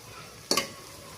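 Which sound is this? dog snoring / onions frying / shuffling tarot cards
onions frying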